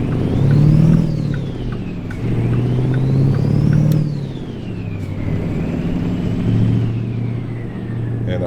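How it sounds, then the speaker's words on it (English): Truck engine in American Truck Simulator revving up and dropping back through several gear shifts, a loud droning rumble with rising and falling pitch sweeps, heard alone without speech. "I still got to get used to the sound of the revs and the RPMs"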